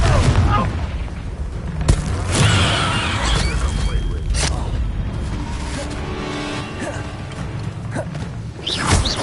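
Spell blasts from the Confringo blasting charm in the Hogwarts Legacy video game, several sharp booming bursts over a dense, busy battle mix with voices shouting between them.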